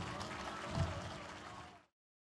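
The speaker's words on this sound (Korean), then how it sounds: "멋진 공연을 보여주신 나비네라 여섯분에게 다시 한번 큰 박수 부탁드리겠습니다" Applause from an audience at a commemoration ceremony for the 131st anniversary of the Donghak Peasant Revolution, greeting six performers; broad, steady crowd clapping that swells briefly, then cuts off abruptly.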